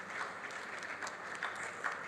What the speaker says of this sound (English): Can you please give the organizers a very beautiful round of applause?